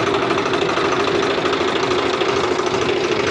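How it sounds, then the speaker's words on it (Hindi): A Swaraj FE tractor's diesel engine idles with a steady, loud, continuous chugging and a rhythmic tappet knock running throughout. "अब मैं आपको ट्रैक्टर स्टार्ट करके दिखाता हूँ कि इसमें पहले कितनी ज़ोरों से आवाज़ थी टैपिट की।"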